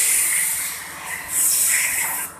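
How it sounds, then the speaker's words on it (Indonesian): A steady, close hiss of diesel fuel sprayed under pressure to wash an engine crankshaft, rising and falling slightly over a few seconds without any voices. "ini sekarang kita cuci, kita semprot pakai solar"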